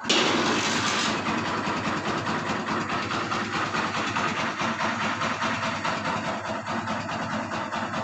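A Kawasaki Barako 175 motorcycle with an original Mikuni carburetor fires up on a single kick, then settles into a steady, loud, close idle with a rapid even putter that carries on without a break.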